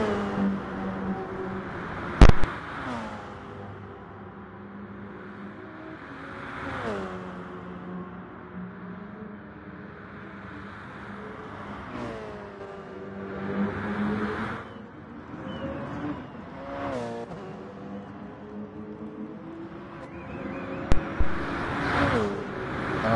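Race cars roar around the Dragon Trail circuit in a racing video game, engines rising and falling through repeated revs and passes, with occasional sharp louder bursts and spells of quieter running.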